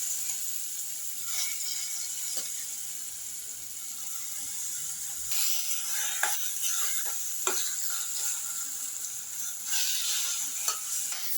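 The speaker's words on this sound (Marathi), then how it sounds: "पीठ टाकून परतवून देऊ" Flour sautéed in ghee in a pan with cloves and a small piece of cinnamon gives a continuous hissing sizzle, with occasional scraping strokes and clicks from stirring, close and moderately loud, and no one speaking.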